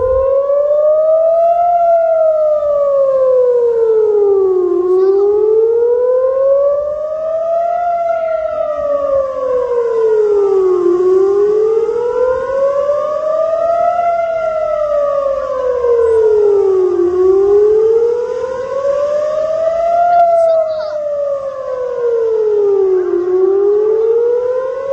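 An emergency civil defense siren in Israel during a rocket attack wails loudly and steadily, rising and falling in a slow repeating cycle for the whole stretch, with nothing else audible.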